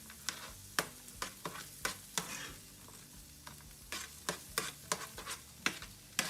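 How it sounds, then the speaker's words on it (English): Food stirred in a pan over medium-high heat gives a soft background sizzle broken by frequent sharp utensil scrapes and knocks in an uneven rhythm, fairly quiet and without talk. "Now, stir this around. just a little bit until it's a little bit tender."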